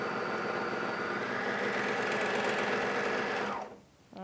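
A Bernina 800DL serger runs at steady speed sewing a 3-thread narrow overlock edge, a close, even mechanical whir with rapid stitching rhythm that winds down and stops near the end.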